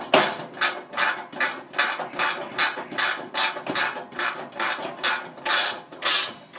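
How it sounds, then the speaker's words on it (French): A hand ratchet tightens 6/30 screws with lock nuts during roof assembly, giving a steady run of quick, close clicking strokes in a regular back-and-forth rhythm. "Donc serrage de la vis donc de 6/30."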